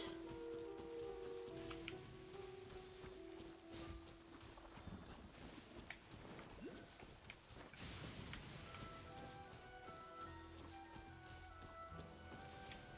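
Steady rain in Genshin Impact patters and hisses continuously, with scattered drop ticks and a soft low rumble underneath.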